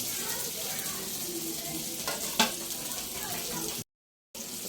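Chopped tomato frying in a pan with browned onion and garlic for an ampalaya and egg dish, a steady close sizzle with a brief clatter midway and a short dropout near the end.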